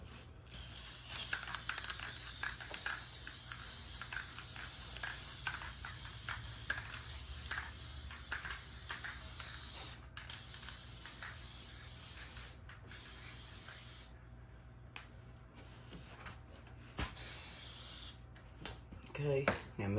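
Spray adhesive hisses from an aerosol can against a spray guard during fishing rod holder building: long, loud, continuous bursts broken by short pauses, ending with a brief clatter.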